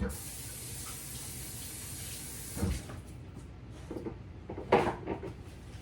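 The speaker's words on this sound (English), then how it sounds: "Let me rinse that off my hands." Running water from a kitchen tap as hands are rinsed, a steady faint hiss that gives way to a few clunks and knocks at the sink.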